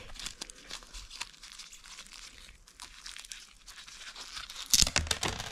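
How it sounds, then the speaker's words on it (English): Mail package being torn open, with repeated crinkling and ripping of paper and plastic at close range, plus a sharper, louder tear near the end. "Rip this open."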